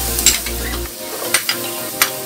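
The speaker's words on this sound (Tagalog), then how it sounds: "gisahin lang natin maigi ang ating sibuyas, bawang, at luya" Onion, garlic and ginger are sautéed in a pan, giving a soft steady sizzle with a few light scrapes and clinks of stirring, and no talk.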